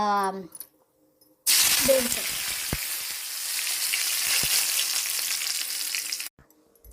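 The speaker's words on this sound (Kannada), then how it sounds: "ಈಗ ಎಣ್ಣೆ ಬಿಸಿ ಆಯಿತು ಈಗ ಇದಕ್ಕೆ ನಾನು ಓಂ ಕಾಳು ಹಾಕ್ತಾ ಇದ್ದೆ" Ajwain seeds hit hot coconut oil for a pomfret fish fry, setting off a loud, steady sizzle that bursts in abruptly after a brief quiet start, crackles with a few sharp pops for about five seconds, then cuts off.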